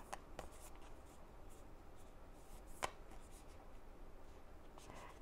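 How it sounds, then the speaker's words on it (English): Soft rustling and flicking of a tarot deck being shuffled by hand, quiet and close, with intermittent light card snaps. "So I'm going to keep shuffling"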